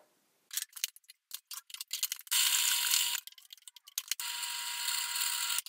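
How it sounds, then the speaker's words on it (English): Food processor whirring through frozen banana slices, starting with short choppy pulses and clicks, then settling into two longer sustained bursts of high, buzzing blending, with a brief stop between them. "stick it in a food processor, and we're going to blend it till smooth"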